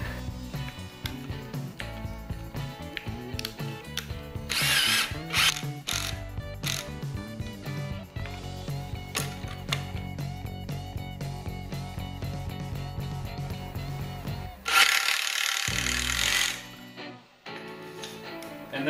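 A power drill drives a pocket-hole screw into wood held in a Kreg HD jig during a workbench build, with a close, ratcheting mechanical whir in bursts, brief louder revs near the middle and end, and short pauses between.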